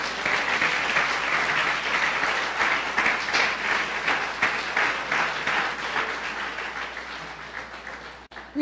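A church congregation claps together in praise during a Sunday service, giving steady, dense applause that fills the room at an even level for several seconds and then begins to taper.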